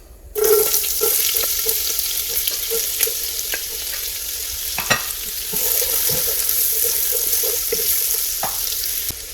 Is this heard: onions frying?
yes